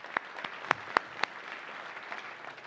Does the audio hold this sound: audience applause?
yes